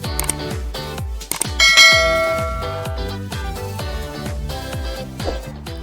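A bright bell melody rings out in a rapid sequence of struck tones, each note ringing briefly before the next, clear and fairly loud with no talk over it.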